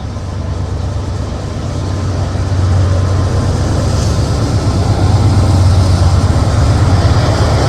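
Norfolk Southern trash train charging northbound toward Hagerstown, a loud, steady rumble of rail cars and engine that swells and holds close by throughout.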